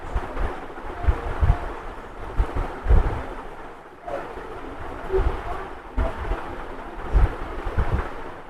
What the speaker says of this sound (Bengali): এই পানির শব্দটা এত সুন্দর লাগছিল